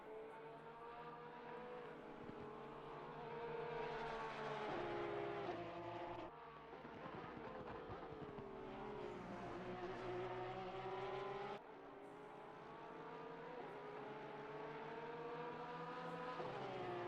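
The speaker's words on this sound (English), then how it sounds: "Gap between Gable and Canopin now down to 1 second with 13 minutes left to go in this pro class race today" Race cars lap Kyalami in an Assetto Corsa Competizione pro-class race, with steady high engine whine rising and falling through gear changes and occasional shifts in the sound. No talk is heard over the engines.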